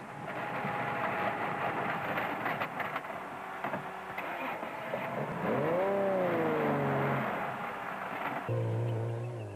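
A Total Motorsport Porter rally car races flat out on a Lesotho Sun 400 off-road rally stage, its engine droning loud and close, then rising and falling in pitch as it shifts and accelerates past.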